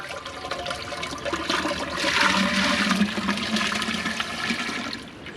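Water poured into a homemade can smelter for a test run makes a gushing, splashing rush that swells in the middle and trails off near the end, close and fairly loud.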